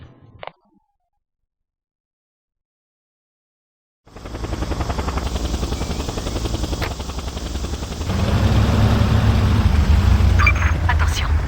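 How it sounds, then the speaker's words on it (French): A helicopter in the video game Just Cause, a loud steady rotor and engine drone that starts after several seconds of silence and grows stronger halfway through, with scattered sharp clicks over it. "Attention, un hélico doit bientôt partir pour la foire."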